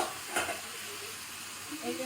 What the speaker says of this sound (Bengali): ফুলকপি আলু দিয়ে মাছের ঝোল হচ্ছে